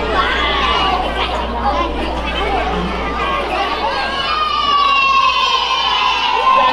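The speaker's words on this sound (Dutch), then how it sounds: "Mag ik nog een daverend applaus voor onze launch van de website." Children's audience cheering, shouting and chattering loudly at a website launch celebration, a dense close crowd roar that carries on throughout with excited voices rising above it.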